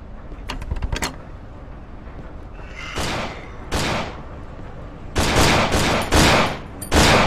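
Several bursts of loud gunfire in the horror video game Cry of Fear, in a metro station, from quick single shots to longer rapid volleys, with short quiet gaps between them.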